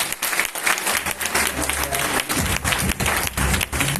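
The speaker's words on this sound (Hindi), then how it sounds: "एक बार जोरदार तालियां अकरम सर के लिए होंगी।" Loud, dense applause from an indoor audience at a motivational seminar, steady clapping filling the whole stretch with a low hum of voices under it.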